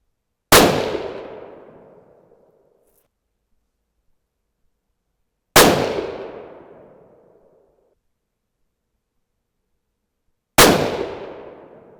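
Three loud, sharp .22-250 rifle shots fired with Alliant Reloder TS handloads at an outdoor range, evenly spaced about five seconds apart. Each crack fades over a couple of seconds into silence.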